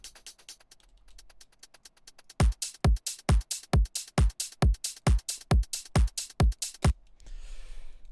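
A drum loop chopped into short segments by an LFO and shaped with EQ: after a soft, thin stretch, a run of punchy, evenly spaced kick-like hits pulses steadily for several seconds, then gives way to a noisy wash.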